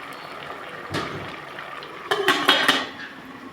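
A metal lid goes down onto a pot of squid adobo cooking with vinegar, with a single soft knock followed by a cluster of sharp clinks and rattles close by, over a faint steady simmer.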